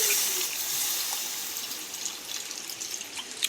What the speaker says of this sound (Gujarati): પાણી રેડીને પછી હાલ લાવજો જેવું જેવું બસ એટલું પાણી